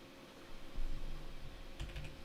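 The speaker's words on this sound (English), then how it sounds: "Start typing this out now." Rapid clicking keystrokes on a computer keyboard, a steady flurry of light taps close up with a few louder key hits near the end.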